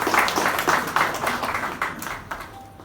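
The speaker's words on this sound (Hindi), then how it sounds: "रंगों के लिए जोरदार तालियां हो जाएंगी" Audience at a Holi get-together event for Bank of Baroda bursts into loud, dense clapping that starts strong and gradually thins out over a few seconds.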